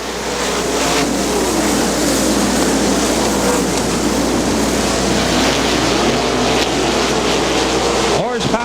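410 sprint cars race on the Butler Battlegrounds dirt track, a loud continuous engine roar with rising and falling revs as the pack passes, and a commentator's voice over the noise.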